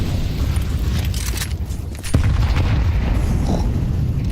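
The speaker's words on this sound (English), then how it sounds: "So many grenades primed here inside of brackets." Grenades going off in Counter-Strike, a steady rumbling wash of heavy booms with a sharp blast cutting through midway, loud and continuous with no talking over it.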